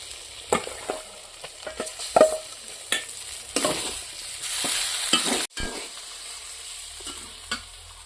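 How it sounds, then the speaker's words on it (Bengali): Eggs going into a sizzling spiced eggplant curry in a Bengali dahi curry, with steady frying hiss, scattered utensil taps and a loud surge of sizzle around the middle before it eases to quieter crackle. "এখন আমি ডিম দিয়ে দেব।"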